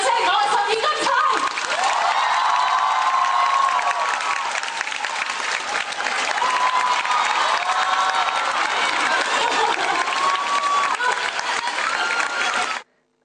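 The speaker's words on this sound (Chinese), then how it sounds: "希望大家可以帮我俾最热烈、最热烈的掌声" Sustained, thunderous theatre applause at the curtain call of the Cantonese stage production Jia Baoyu starring Denise Ho, a dense roar of clapping mixed with cheers and whoops that carries on for over ten seconds before stopping sharply.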